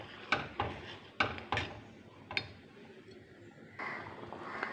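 A cooking pot being closed with its lid while preparing papaya thoran, several sharp knocking clinks in irregular succession, close and fairly quiet.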